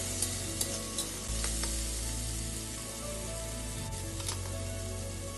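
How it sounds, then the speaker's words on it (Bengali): Onion and tomato frying in a pan with salt added, sizzling steadily up close while a spoon stirs and scrapes, with a few clicks and shifts in the sizzle, no voices. "পেঁয়াজ এবং টমেটো ভালো করে ভাজা হয়ে গেলে তাতে দিয়ে দেব পরিমাণ মতো নুন, দিয়ে ভালো করে মিশিয়ে নেব।"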